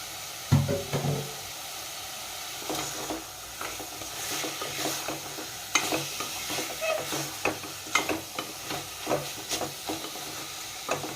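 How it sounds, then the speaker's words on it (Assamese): Mutton frying in a pot with Kashmiri red chili powder, meat masala and cumin powder, giving a soft steady sizzle broken by irregular spoon scrapes and stirring knocks, close and moderately quiet. "এতিয়া ঢাকোন মাৰি এইখিনি কম জুইত মাংসখিনি নিসিজালৈকে ভাজি থাকিব লাগিব।"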